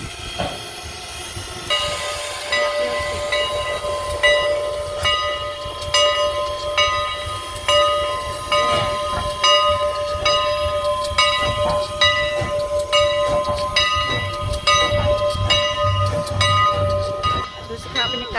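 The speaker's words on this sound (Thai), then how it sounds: "อันนี้หัวรถไฟนะคะกำลังจะเปลี่ยน" An antique coal-fired steam locomotive being coupled at a station, with a steady loud hiss and engine rumble, a sustained whistle-like tone, and repeated metallic clanks and knocks throughout.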